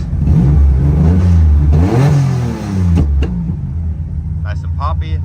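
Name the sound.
Mitsubishi 3000GT engine revving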